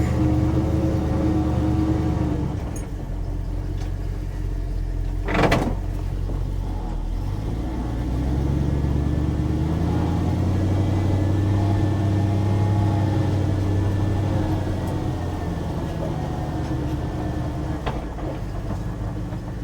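The engine of a Dodge W200 truck runs rough at idle or low speed, a steady low rumble with uneven pulsing lasting the whole time, plus one brief sharp click near the middle and no speech.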